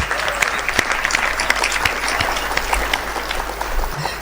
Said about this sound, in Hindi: आप ताली वाली बजाना मेरी कविता पे